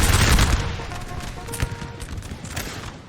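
Musket volleys crackle in a Napoleon: Total War battle, a dense burst of gunfire opening loudly and then continuing as scattered overlapping shots and booms over a sustained battlefield din for about three seconds.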